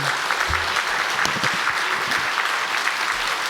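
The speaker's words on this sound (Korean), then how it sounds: "우리 한번 격려의 박수 한번 부탁하겠습니다" Applause of encouragement fills a church sanctuary during an anniversary Sunday worship service, the congregation clapping steadily and evenly for about three and a half seconds with a faint low voice at the start.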